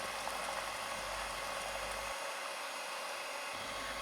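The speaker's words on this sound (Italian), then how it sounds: "In un'altra ciotola inizio a montare la panna fresca" Electric hand mixer whipping very cold fresh cream in a bowl, a steady continuous whirring drone that holds throughout, with a brief dip in the low rumble partway through.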